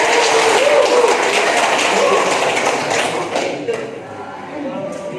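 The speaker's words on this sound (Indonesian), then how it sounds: "tepuk tangan untuk Olpi" A classroom applauds a student at a senior high school in Tanjung Sakti, brief steady clapping from a group of pupils that fades out toward the end, with voices mixed in.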